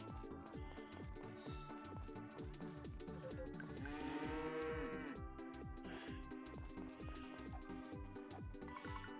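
Cows in the farming video game Friends of Mineral Town give a long drawn-out moo over looping game music with steady rhythmic beats, the call swelling in the middle of the clip and fading back under the music.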